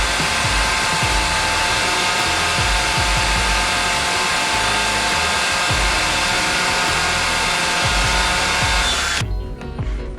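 Hair dryer blowing hot air to activate 3M adhesive tape while wiring lights on a Gold Wing motorcycle, a loud continuous whooshing whine held for about nine seconds before it cuts off abruptly.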